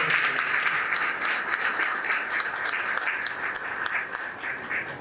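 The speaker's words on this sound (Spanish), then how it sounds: "Vamos a pedir otro fuerte aplauso" An audience at an academic panel on Pedro Henríquez Ureña applauds steadily, a sustained wash of clapping at moderate volume that carries on without pause.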